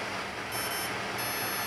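An Opera drone ESC gives its arming beep: a thin, high-pitched electronic tone in two short bursts over a low background hiss, with no talking.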